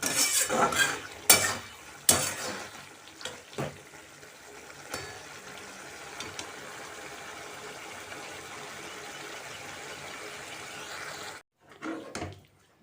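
Curry being sautéed in a pan in a home kitchen and stirred with a new ladle, giving scattered clinks and scrapes of metal on the pan over a low sizzle, fairly quiet, with no talk.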